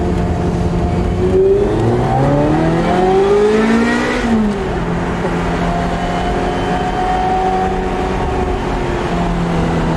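A car accelerating hard, its engine note climbing steadily over about four seconds before a gear change drops the pitch, then pulling again at a sustained loud drone; no talk.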